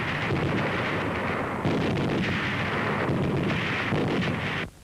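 Pair of belt-fed, recoil-operated, air-cooled M1919A4 machine guns firing together in an unbroken roar of dense, fast reports, loud and rumbling, cutting off abruptly at the end.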